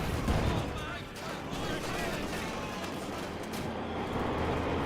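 Gunfire and heavy cannon blasts from a battle in Company of Heroes 2, with a Panzer IV tank firing amid a dense, continuous wash of explosions and shots that stays loud throughout.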